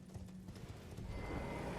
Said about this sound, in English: Didn't think I could actually use my horse here, but I guess I can.